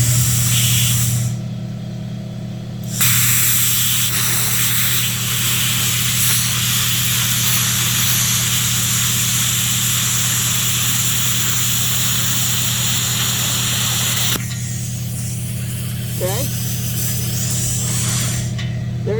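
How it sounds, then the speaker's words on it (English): Post-cooling air from a PrimeWeld Plasma 50D plasma cutter hisses loudly and continuously through the nozzle over a low steady hum, with brief dips in the rush of air. "You can feel the cooling air coming through to cool your nozzle down."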